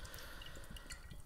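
Sparkling orange drink poured into a glass, a steady fizzing, hissing rush of liquid with fine crackling bubbles, close and continuous throughout.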